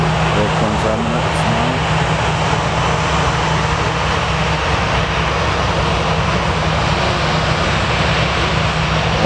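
A large airliner takes off at Manchester Airport, with a loud, steady jet engine roar that fills the whole span, and talk is heard in the background.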